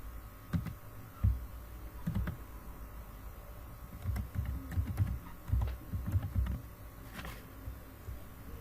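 Someone types an email address on a computer keyboard: quiet, irregular bursts of key clicks with short pauses between them, close up and alone.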